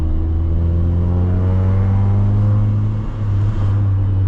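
A car engine pulls steadily through long gears, a loud, continuous low drone with a smooth rising hum and a brief dip about three seconds in.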